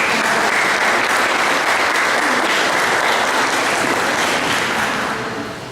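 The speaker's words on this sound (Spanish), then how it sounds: "Pérez, jueza segundo familiar de Texcoco, a quien también brindamos un fuerte aplauso." Loud, dense applause from a conference audience, sustained clapping that fades out toward the end.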